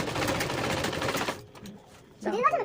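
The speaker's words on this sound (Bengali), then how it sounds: "আগে তো সেলাই করতে হবে নাহলে বইগুলো সব ছিঁড়ে ফেলবে" A sewing machine runs steadily at close range while stitching school books at home, then stops, followed by a short burst of talking.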